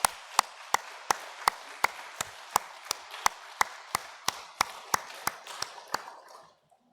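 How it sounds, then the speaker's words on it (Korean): A church congregation claps in a steady, even rhythm at a Sunday service, about seventeen sharp claps in a row that stop abruptly into quiet. "우리 격려와 축복의 박수로 맞이하도록 합니다"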